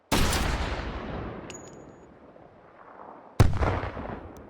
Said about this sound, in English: Oh my God, they literally are explosive shells.